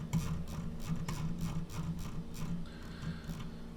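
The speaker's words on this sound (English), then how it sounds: "My mouse wheel's a little bit noisy, I know." A computer mouse scroll wheel clicks in quick, rapid ratcheting bursts, close and quiet, with no talk over it.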